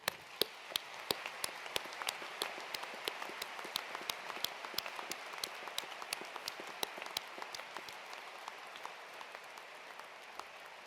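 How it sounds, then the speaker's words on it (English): Audience applause in a hall at a University of Edinburgh graduation ceremony, with many hands clapping steadily and individual sharp claps standing out, sustained evenly for about eleven seconds. "Please all join me to applaud our academic disciplines and their supporters."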